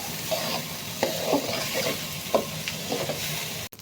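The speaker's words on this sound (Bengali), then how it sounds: "চালটাকে খুব ভালোভাবে কষিয়ে নিতে হবে" Rice is fried in a pan for a greens basanti pulao, a continuous hiss of sizzling under rhythmic scraping strokes of a spoon turning the grains, close and fairly loud.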